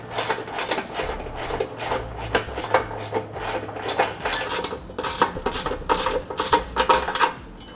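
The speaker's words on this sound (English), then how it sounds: "you'll need a 7/16 wrench and socket" A 7/16 socket wrench ratchets a lock nut onto a 1/4-inch bolt while a Roadmaster crossbar-style base plate kit is fitted, making rapid bursts of close metallic clicking in uneven spurts.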